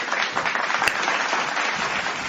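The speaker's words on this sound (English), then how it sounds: "Okay, guys, clap for me one time." An audience at a talk applauds in a dense, steady wash of clapping that lasts throughout, fairly loud and even.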